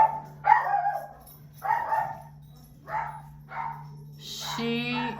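A dog barks indoors: four or five spaced barks and a higher whimpering yip at the end, over a steady low electrical hum.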